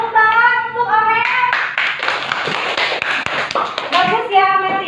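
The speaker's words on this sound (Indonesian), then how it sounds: "Tepuk tangan untuk Amel." Classroom of children clapping for a student after her presentation, a burst of rhythmic hand claps from a small group, with a teacher's voice and children talking over the start and end.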